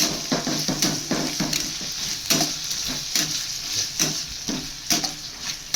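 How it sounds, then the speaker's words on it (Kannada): Rice for paneer fried rice, with chilli sauce added, stirred and fried in a pan: steady sizzling under repeated scraping and clacking strokes of a spoon, close and fairly loud, with no talk. "ಹಾಕ್ಕೊಂಡು ಎಲ್ಲನೂ ಚೆನ್ನಾಗಿ ಮಿಕ್ಸ್ ಮಾಡ್ಕೊಬೇಕು."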